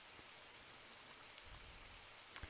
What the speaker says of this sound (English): I fell asleep to the sound of the rain.